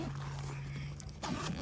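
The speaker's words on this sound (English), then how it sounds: "close the bag, zip it up" A zipper on a throw-over motorcycle saddle bag being zipped shut, a close, brief rasping pull that ends with a louder scrape, without speech.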